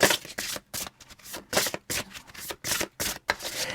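Fortune-telling cards are shuffled by hand in a series of crisp, rapid riffling bursts separated by short pauses, close and clear, with no talking over them.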